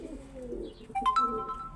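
Soft, low cooing of pigeons close by, followed by a brief higher chirp or whistle toward the end.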